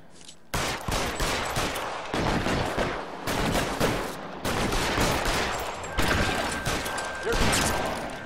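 Video game shootout with bursts of rapid gunfire and fusillades, loud and close, interrupted by brief gaps and scattered impacts.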